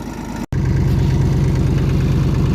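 A McCormick D324 tractor engine chugs steadily and loudly up close while sowing sunflower and clover, a low rhythmic diesel throb broken by one brief dropout near the start.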